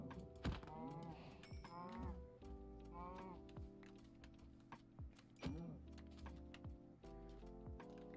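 Cows mooing in the Minecraft video game, with several low, drawn-out moos repeating over a steady game background, alongside clicking keys.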